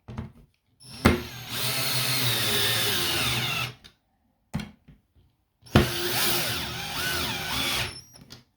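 A small, cheap £15 drill drives screws into an assembled kitchen drawer in two long whirring bursts, each starting with a sharp attack and holding steady for a few seconds, with a short pause between them.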